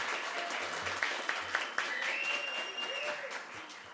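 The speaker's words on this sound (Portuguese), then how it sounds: "Vamos aplaudir, gente?" Applause at a public hearing on mental health: a brief, faint patter of clapping from a small audience, heard at a distance, with a few soft tones and murmurs.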